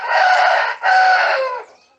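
A rooster on a small homestead farm crows loudly and close by, one full call broken by a brief catch partway through before it trails off, with nothing else around it.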